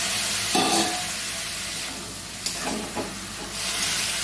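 Moth beans with spices being sautéed in a pan: continuous sizzling with a few sharp stirring scrapes and clatters, close and alone without speech.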